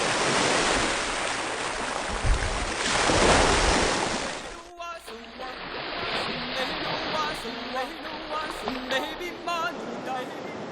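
Ocean surf rushes and roars on the eastern coast of Taiwan near Qingshui Cliff, loud at first, then continuing more softly under a person talking once the scene changes.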